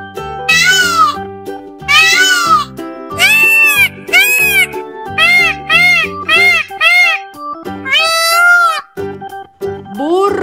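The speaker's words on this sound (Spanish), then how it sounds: "Pavo real." A peacock gives a run of loud, piercing, wailing calls, about a dozen nasal, cat-like cries in quick bursts, over soft background music.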